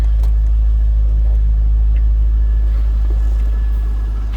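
A 2001 Chevrolet Corvette convertible engine idles with a steady, deep low rumble, loud and close, holding an even tone with no voices.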